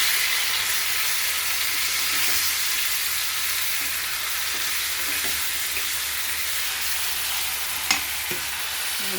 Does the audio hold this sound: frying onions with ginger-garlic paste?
yes